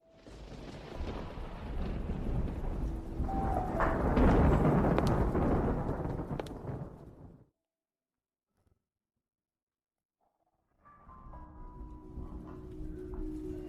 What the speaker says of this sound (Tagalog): Ang kulog. Ang lakas talaga.